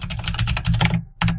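Quick, steady keystrokes on a computer keyboard, close and clear, a short run of typing that pauses briefly before a few more taps.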